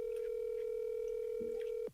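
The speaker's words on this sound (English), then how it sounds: "Okay, you're ringing." A phone call ringback tone, a single steady electronic tone held close and loud for nearly two seconds before cutting off, with faint background noise.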